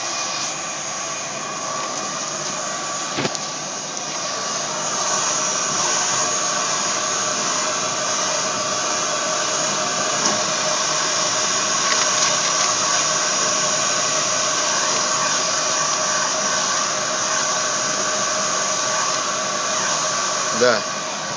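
The exhaust fan on a WJ-UV400 UV curing dryer runs as a steady, loud whooshing drone with a faint whine. A sharp knock comes early, and small clatters sound now and then.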